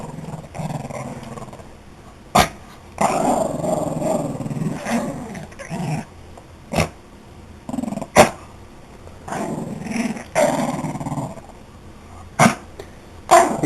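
A dog growls steadily while tugging and playing with a worn-out blanket, the low rumbling continuous and close, broken by several sharp barks or snaps.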